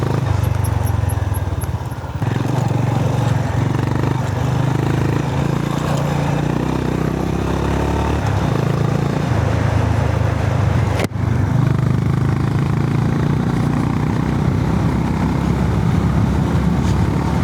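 A 2025 Honda GB 350S motorcycle rides off-road, its engine droning steadily and loud close to the rider, with wind buffeting and a brief sharp knock partway through.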